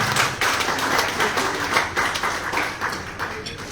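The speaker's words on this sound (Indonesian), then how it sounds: "Tepuk tangan Bapak-Ibu." An audience at a company business presentation breaks into applause, a moderately loud, somewhat uneven patter of many hands clapping throughout.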